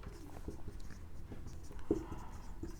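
Chalk or marker writing on a classroom board during a math lesson, short scratchy strokes tapping in an irregular rhythm, fairly close and moderately loud with no talking.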